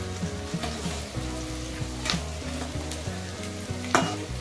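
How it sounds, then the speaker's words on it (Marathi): Tomatoes fry with browned onions in a pan for a dal and brinjal dish, giving a steady close sizzle broken by light stirring scrapes and a sharp clink near the end. "आता कांदा लाल झाला, कलर आला का मग याच्यात मी टमाटर टाकले"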